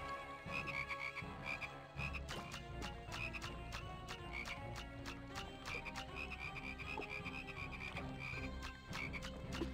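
A dense chorus of frogs croaks in the Cartoon Network Punch Time Explosion video game, rapid overlapping calls pulsing continuously over a busy backdrop of game sound.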